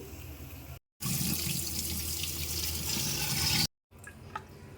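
Water drains from raw banana pieces just pressure-cooked, a steady loud pouring and splashing that stops cleanly twice, then softer drips and trickles.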